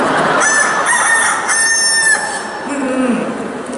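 A rooster crows loudly and close, one long drawn-out call that trails off, followed by some softer clucking.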